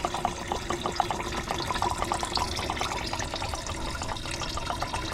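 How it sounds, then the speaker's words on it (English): Coolant draining from a popped hose on a 2010 V6 Mustang into a bucket, a steady close trickling and splashing stream with no talk. "Pop this hose off right here, and that's gonna drain most of everything from the top end."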